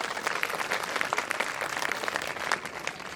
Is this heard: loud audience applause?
yes